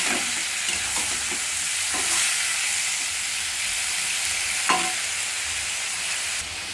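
Soya chunks fry on top of potatoes in a pan, giving a steady close sizzle with a few scraping stirs near the start and a sharper clatter about two-thirds of the way through.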